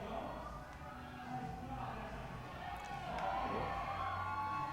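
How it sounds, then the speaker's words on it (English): Indoor bouldering competition crowd cheering in a rising swell at a university climbing finals, under a commentator talking close to the microphone. "We hear some cheering because Anna has made the move into the bonus"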